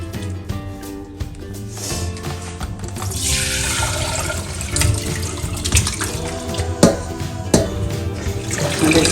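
Water runs steadily from a tap into a sink, splashing and rushing with occasional clinks and sloshes as minced meat is rinsed under it.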